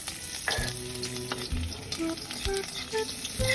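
Spices and aromatics sautéing in a pan for tinolang kulapot, a close, quiet sizzle broken by repeated scraping and clanking stirs in an irregular rhythm.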